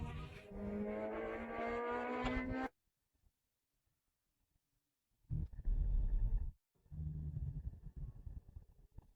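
Race car on a track: a loud engine drone with rising pitch, then a few seconds of near silence, then more bursts of close engine roar and tyre noise.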